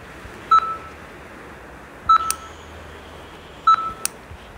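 A heart monitor in Melon Playground beeps in a steady, evenly spaced rhythm, three sharp electronic tones with short echoing blips between them, clear and close.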